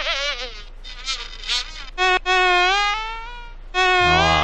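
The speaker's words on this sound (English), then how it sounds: "She wants you to find the bee that's making this sound." A cartoonish buzzing bee sound effect from a Dora the Explorer game plays in several wavering, tonal bursts with short gaps, close and clear with no talk.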